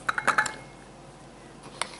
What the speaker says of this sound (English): I'm gonna crush some garlic in it